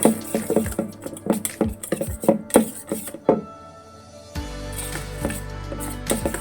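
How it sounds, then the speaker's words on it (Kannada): Water pours steadily into motichoor laddu batter in a bowl after a run of clinking, tapping utensil sounds, close up with no talking. "ಸ್ವಲ್ಪ ನೀರು ಹಾಕ್ಕೊಳ್ಳೋಣ ನೋಡಿ"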